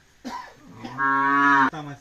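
A Khillar cow, of the Kajali Khillar cattle line, gives one loud, close moo that rises and then holds steady for nearly a second before breaking off, with no talking.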